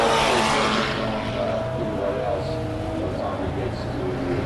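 A Jaguar race car climbs a hill fast at the Simola Hillclimb, its engine a steady distant roar that fades gradually, with commentary talk running over it throughout.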